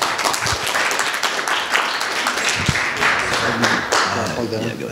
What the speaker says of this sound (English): great applause to Mike